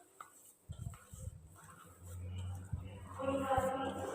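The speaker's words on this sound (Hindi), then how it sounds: "अब हम इन्हें तमाम स्पाइसेस के साथ अच्छे से मिक्स कर लेंगे।" Potato snack pieces being mixed with spices by hand in a bowl, soft irregular thuds and rustling knocks against the bowl, fairly quiet and close.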